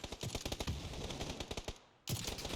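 Rapid bursts of automatic gunfire in the battle-royale video game PUBG, loud and close, with sharp repeated shots in a steady run, a brief pause, then more shots.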